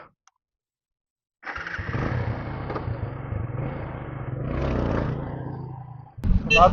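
A TVS Apache RTX 300 motorcycle fires up after a brief silence, then its engine runs loud and steady with a rising rev before cutting off into a close burst of noise.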